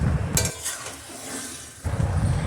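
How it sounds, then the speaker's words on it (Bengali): Mutton for biryani cooks in a pot on the stove, giving a steady close sizzle and bubbling with faint clinks of a utensil against the pot, quieter in the middle and louder at the start and end. "এইবার বসিয়ে দিয়েছি আমি মাটনটা কিন্তু।"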